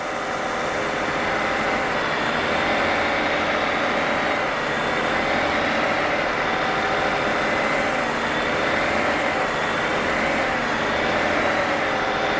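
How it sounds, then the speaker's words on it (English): A BMW N55 engine runs steadily at close range during intake valve cleaning, a constant droning hum with a slight waver in pitch, with no voices. "You hear how the engine changed the RPM sound because of the heavy material."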